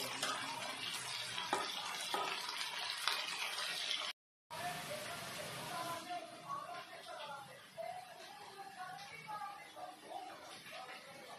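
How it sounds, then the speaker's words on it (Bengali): Shrimp sizzle in a pan with bottle gourd for a Bengali dish, a dense crackling hiss that runs steadily and briefly cuts out, with a voice talking faintly at times. "চিংড়ি মাছটা হালকা হালকা ভাজা হয়ে এসেছে"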